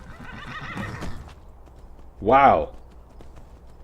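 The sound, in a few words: horse galloping and neighing in video game Skyrim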